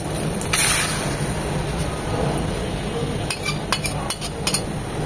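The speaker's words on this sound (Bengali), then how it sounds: "মশলাটাকে খুব ভালোভাবে কষিয়ে নেব।" A spice paste of turmeric, chili and roasted cumin powder mixed with water being stirred and fried in a pan: soft sizzling under intermittent metallic clinks and scrapes of a spoon against the pan, with clustered taps toward the end.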